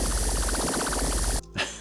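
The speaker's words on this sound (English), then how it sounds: "Not just that it's spraying out something, but also it maybe like it mixes something inside the weapon" A loud, layered weapon spraying hiss with a rapid pulsing flutter inside it, sustained then abruptly stopping, followed by a brief softer puff.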